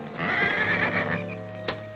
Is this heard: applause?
no